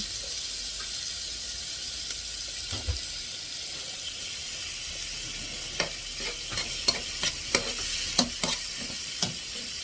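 Garlic and onion fry in a hot pan for fried rice, a steady broadband sizzle running throughout, with a few sharp clicks and scrapes of stirring toward the end.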